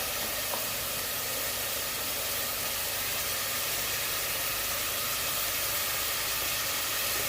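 Masala spices for mutton kofta curry fry slowly in a pan, giving a steady, even sizzling hiss that holds unchanged throughout with no talk.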